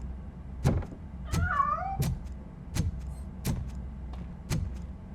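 A cat meows in the RoboCop: Rogue City video game, one short rising meow heard amid steady rhythmic mechanical thumps and a low background drone, no talking.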